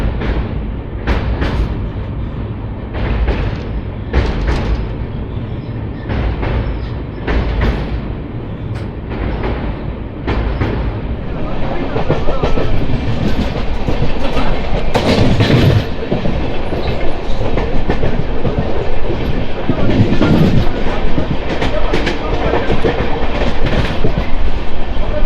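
The Charlapalli Superfast Express from Chennai Central runs over the bridge across the Penna river, its wheels beating a loud, steady clickety-clack that swells into a continuous heavy rumble.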